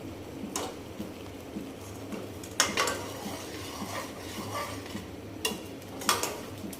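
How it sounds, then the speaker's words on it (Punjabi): Dhaba-style dum aloo gravy with curd being stirred in a pan, with soft scraping and a few sharper clinks of the spoon against metal over a low, steady cooking hiss. "ਇਸ ਨੂੰ ਹਿਲਾਉਂਦੇ ਰਹਿਣਾ ਤਾਂ ਜੋ ਇਹਦੀ ਜਿਹੜੀ ਦਹੀਂ ਆ ਉਹ ਫਟੇ ਨਾ"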